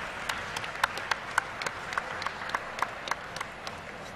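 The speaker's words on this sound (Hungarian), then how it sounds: "egy hatalmas nagy tapsot nekik." Applause from an esports tournament audience at a Heroes of the Storm final, a steady wash of clapping with some sharper individual claps standing out, moderately loud and continuous throughout.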